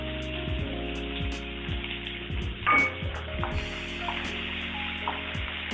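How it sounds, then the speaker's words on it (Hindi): Chopped onion with green chilli and asafoetida frying in a pan, a soft, steady sizzle with a few clinks of a spoon stirring, fairly close and with no voices. "इसको गोल्डन होने तक भून लेंगे"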